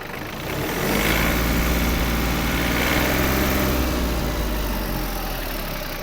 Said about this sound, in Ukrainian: Ось така гарна робота двигуна.